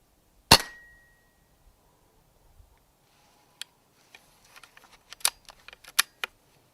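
A single sharp, close airgun shot fired at a rat at night rings out with a short decay, followed by scattered faint ticks and clicks in near silence.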